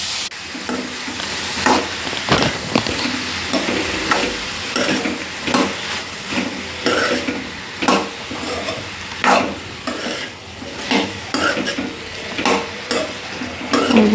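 Capsicum pieces are stirred and fried in a pan: a loud, close sizzle with frequent scraping and clanking strokes of a spoon against the pan, coming in a steady, busy rhythm with no voices.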